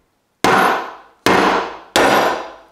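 Three hard metallic hammer strikes on a nut threaded onto a Lagun table carriage bolt, evenly spaced and close, each a sharp clang with a short ringing decay.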